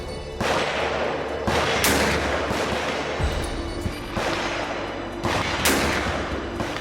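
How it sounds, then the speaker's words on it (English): Ruger Redhawk .44 Magnum single-action revolver fired at a range alongside other guns, loud sharp gunshot reports roughly every one to two seconds with echoing decay and overlapping background fire. "Even when multiple guns are being shot at once, you can easily identify the unique sound of the .44 Magnum."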